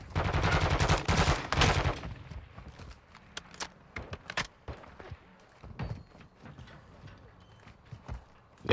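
Gunfire in Modern Warfare 2 from an STB 556 rifle, a dense loud burst of rapid shots at the start, then scattered single shots and distant pops, with faint voices in the background.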